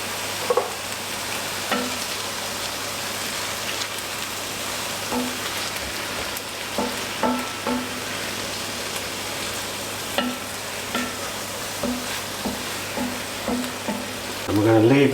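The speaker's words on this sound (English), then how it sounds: "Stir that in, and then we're going to add the tin of tomatoes." Ratatouille vegetables and tinned tomatoes stirred in a pan, a steady soft sizzle with scattered wet scraping and clicking stirs throughout, no talking.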